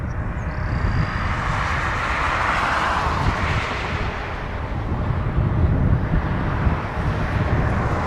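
WestJet Boeing 737-700 airliner returning to Toronto Pearson after turning back on a flight to Fort Myers, a steady broad jet roar with wind buffeting, holding loud and even throughout with no voices.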